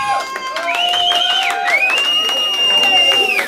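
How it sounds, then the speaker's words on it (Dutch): A crowd at a CD presentation applauds and cheers, steady and loud, with whoops, shouts and voices mixed through the noise. "Dames en heren, applaus."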